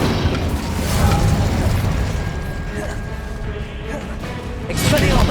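An Incendio fire spell in Hogwarts Legacy erupts amid ongoing combat, with booming bursts, rumbling and mechanical clatter in a dense, loud mix that surges at the start and again at the end, and a voice talking over it.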